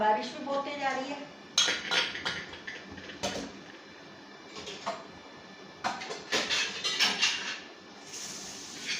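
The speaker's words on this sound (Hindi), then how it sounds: "ये सारे पूजा के बर्तन हैं, पहले तो पूजा के बर्तन करूँगी तैयार, सारे पूरे पूजा के बर्तन साफ करूँगी पहले" Puja utensils being washed by hand, metal dishes clinking and clattering in irregular bursts close by, with quieter scraping and water sounds between the knocks.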